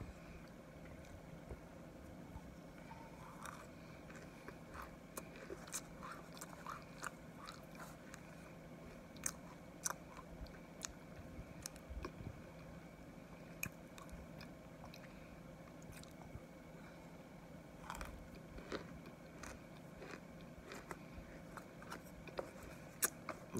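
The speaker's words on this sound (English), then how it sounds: "I'm gonna take one more crunch before I get off of here." Ginger Evans snacks being crunched and chewed close to the mouth, scattered sharp crisp bites and quieter chewing repeating over a faint steady background hum, with no talking.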